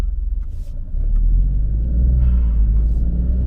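An Alfa Romeo Stelvio 2.9L drives on the road, its engine and tyres making a loud, steady low rumble that swells and holds after the first second, with no talking over it.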